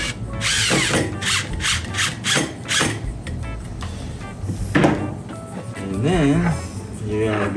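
A power drill driving a screw into a Cannon Uni-Troll 10 STX-TS downrigger, close and loud, with bursts of whirring and rising motor pitch between clunks and handling noise, a voice talking briefly under it.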